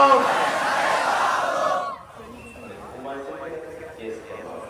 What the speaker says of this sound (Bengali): কতগুলো তাকবীর ধ্বনি দিয়ে ওইগুলো একটু চাপা দেওয়া দরকার